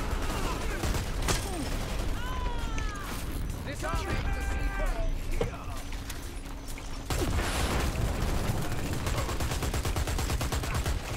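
Gunfire in the Dirty Bomb video game: rapid, sustained bursts of automatic shots and clattering impacts that run nearly continuously, with voices talking over the fighting.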